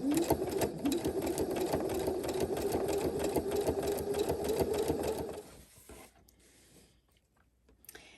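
A sewing machine runs a zigzag stitch along a fabric edge at stitch length 3.4, whirring fast and steadily with rapid rhythmic needle clatter for about five seconds before stopping, followed by quiet handling noises.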